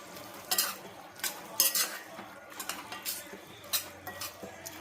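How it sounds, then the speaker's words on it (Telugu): A spoon stirs a brinjal and potato curry with coriander in a pot, making repeated scraping and clinking strokes, close and moderately loud, with a faint sizzle underneath and no talk. "మొత్తం ఒకసారి కలుపుకుందాము."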